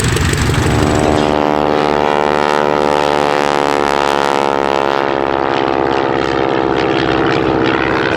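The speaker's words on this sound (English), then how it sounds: "If you look on the downwind leg on the far side of the circuit, Spitfire Mark 5." A Spitfire Mk V propeller aircraft drones loudly and continuously with a throbbing, pulsing engine note as it flies past on the downwind leg of the airfield circuit.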